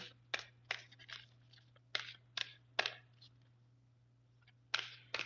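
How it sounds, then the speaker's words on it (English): A large deck of cards is shuffled by hand, a quiet, close run of irregular crisp riffling bursts and soft flicks separated by short pauses. "You might have to shuffle it this way."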